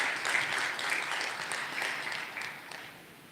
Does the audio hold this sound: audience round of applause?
yes